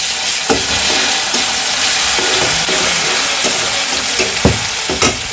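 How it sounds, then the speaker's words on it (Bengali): Crushed garlic fries with onions in a pan for a village-style dried fish dish, a loud steady sizzle with scraping stir strokes throughout and no talk. "এখন এই যে রসুন ছিঁচে রাখছি"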